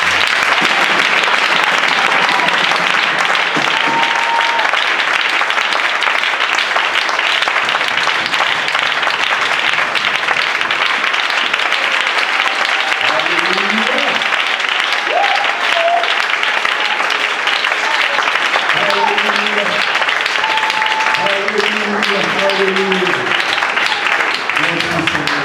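Sustained applause from a church congregation at a Monday Bible study, a steady dense wash of clapping running throughout with some voices mixed in.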